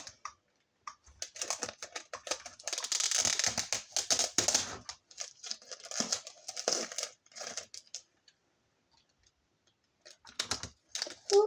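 Tape is pulled and pressed onto a paper page, sticking it in place, in a series of close, crisp crackling rips and rustles, followed by quieter pauses and a few final crinkles.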